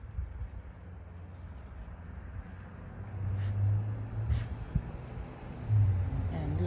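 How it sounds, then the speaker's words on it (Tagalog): A low, continuous rumble of passing cars, heard from a backyard, swells and fades in the distance, with a few louder vehicles going by. "Wala kayong maririnig kundi yung ugong ng mga sasakyan."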